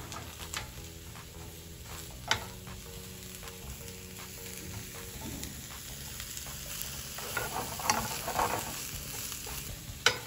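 Beef heating and frying in a pan, giving a steady crackling sizzle broken by spatula scrapes and light taps, moderately quiet and without voices.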